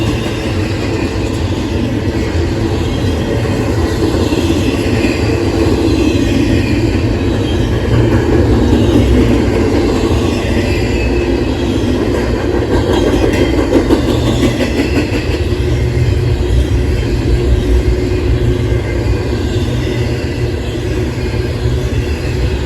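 Norfolk Southern freight train 277 rolls steadily past close by, a loud continuous rumble with rhythmic clickety-clack of wheels on rail joints and faint wheel squeal throughout.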